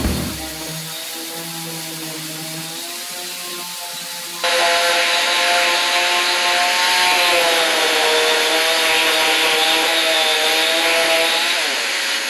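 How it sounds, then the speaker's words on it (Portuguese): Power sander working across wooden pieces with 180-grit paper, a steady whining drone with wavering tonal bands that grows noticeably louder and broader partway through, running continuously and close with no voices. "Passei a lixa 180 em todas as peças."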